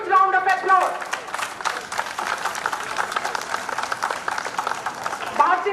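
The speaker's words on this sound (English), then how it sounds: "let us greet Vidyashram, Bharati Vidya Bhavan with a huge round of applause" Audience applause at a school reunion gathering honoring Vidyashram, Bharati Vidya Bhavan: a dense, steady wash of many hands clapping with scattered cheers, mixed with voices at the start and end.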